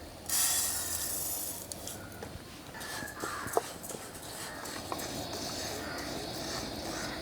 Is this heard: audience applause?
no